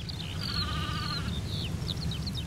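Faint sheep bleating on open grazed moorland in western Britain, a quavering call and a few short bleats over a steady low wind rumble.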